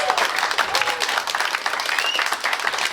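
A comedy club audience gives a round of applause, a steady, fairly loud wash of clapping throughout.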